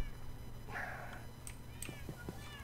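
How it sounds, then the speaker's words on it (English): Cats in a Minecraft cat farm, about thirty-two of them crammed together, meow in a few short, faint calls over a low steady hum. "We have 32 cats in here now. Gosh, they're a noisy lot."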